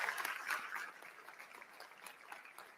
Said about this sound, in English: Ladies and gentlemen, can we give them a big round of applause?